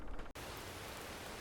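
Rain in the Farming Simulator video game on a forest logging map, a steady broadband hiss that begins abruptly after a brief gap and continues evenly, soft and with no talking.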